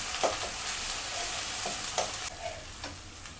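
Hilsa fish curry with yogurt stir-fried in a pan, with a close steady sizzle and soft intermittent scraping strokes of a spatula.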